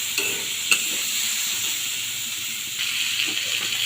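Shrimp sizzling in a pan of spiced masala cooked down with onion, coriander and cumin powder, a steady close hiss with a few light stirring clicks and no talking.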